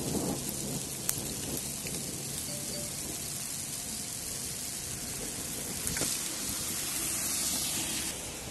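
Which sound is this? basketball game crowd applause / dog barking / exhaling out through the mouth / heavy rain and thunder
heavy rain and thunder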